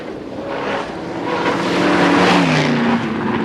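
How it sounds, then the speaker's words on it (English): An original Ford Falcon XT GT is driven, its engine a loud, steady rumble that swells slightly as it passes, with no voices. "the original GT was taken for a bit of a spin to blow out the cobwebs."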